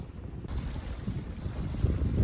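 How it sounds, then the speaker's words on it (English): Gusting wind rumbles hard across the microphone aboard a sailboat on choughy water, a constant low roar with surges and faint wave wash, no voices. "It was super wavy and the wind was gusting up to 25 miles per"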